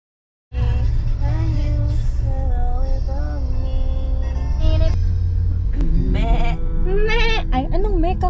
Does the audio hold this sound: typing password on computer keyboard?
no